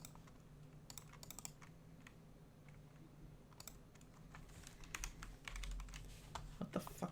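Computer keyboard typing with some keys stuck, irregular bursts of clicks and clatter over a steady low hum, growing busier toward the end, with no one talking.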